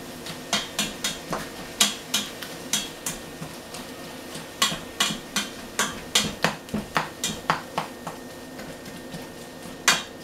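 Ground meat is stirred in a pot for chili, with a utensil clanking and scraping against the metal in irregular close knocks and rattles and no talking.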